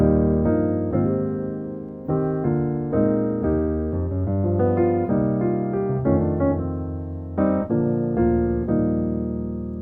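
Solo piano plays a slow progression of rich, sustained gospel jazz chords, each ringing out clearly before the next, up close with no talking.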